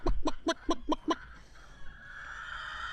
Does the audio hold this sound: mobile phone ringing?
no